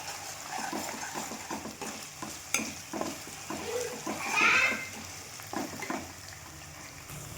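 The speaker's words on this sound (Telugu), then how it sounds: "పచ్చివాసన అంతా పోయే వరకు ఫ్రై చేద్దాం." Masala frying and being stirred in a pan for an Andhra fish pulusu, with a steady sizzle and repeated scraping strokes, plus one louder clatter midway; faint voices murmur in the background.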